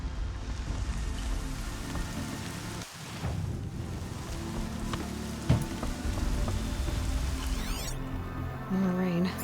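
Steady rainfall patters on surfaces in the video game Horizon Zero Dawn, a continuous hiss with occasional louder drops, and faint tonal game sounds near the end.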